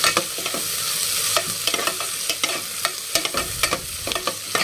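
Sliced onions are stirred in a hot pan of oil for a home-cooked pulao, with a steady sizzle under repeated scraping and clacking strokes of the spoon against the pan, close and fairly loud. No one talks.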